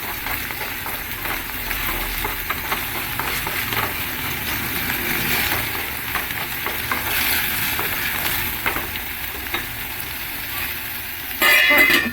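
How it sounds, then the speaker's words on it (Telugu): Small potatoes and ginger fry in a pan for curry, giving a steady moderate sizzle with stirring scrapes throughout and a louder clatter right at the end. "మొత్తం ఫ్రై అయ్యేలా కాసేపు అల్లం వేసిన తర్వాత కూడా కాసేపు మగ్గనిస్తానమాట"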